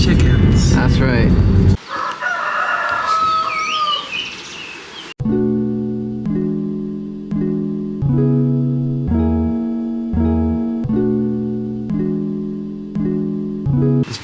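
Chickens outdoors with a rooster crowing in a long wavering call near the start, then a steady tuned melodic tone pattern takes over in regular repeating steps.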